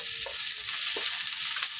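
Onions sautéing in rendered meat fat for pakbet adobo, a steady close hiss of frying with a few soft stirring scrapes on top, no talking.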